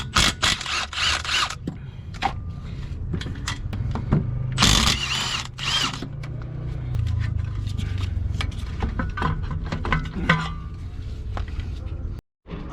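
A power tool rattles in short ratcheting bursts while removing 17 mm brake caliper bolts at a junkyard, mixed with metallic clinks and handling noise as someone talks.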